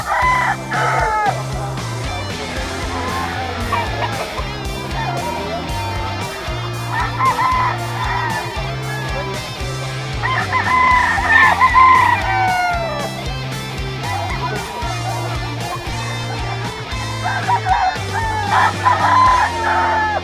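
Gamefowl stags crow repeatedly at a busy rooster market in Bocaue, loud overlapping cock-a-doodle-doos over crowd noise and background music.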